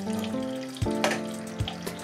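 Canned tomatoes from a 28-ounce can being dumped into a pot, a wet splashing glop with a couple of heavy plops amid running-water-like sloshing, close and moderately loud.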